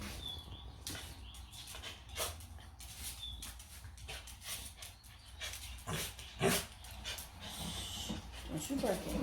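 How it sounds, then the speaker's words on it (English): A dog barks in short, sharp bursts, mixed with panting and soft whimpers, while people talk over it throughout. "Don't you bark at me."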